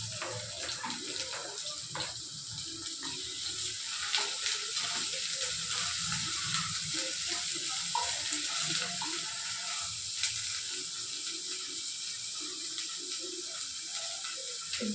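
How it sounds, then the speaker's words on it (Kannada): Chopped onions and capsicum fry in a pan for egg Manchurian, giving a steady, close hiss and crackle with occasional stirring scrapes and no voices. "ಈರುಳ್ಳಿ ಫ್ರೈ ಆಗ್ತಿರುವಾಗಲೇ ಕ್ಯಾಪ್ಸಿಕಮ್ ಸೇರಿಸ್ಕೊಳ್ಳೋಣ"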